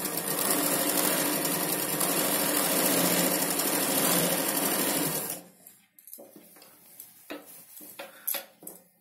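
A sewing machine stitches a Punjabi dress pant in a steady, loud whirring run for about five seconds, then stops abruptly, leaving quiet fabric handling and a few light clicks.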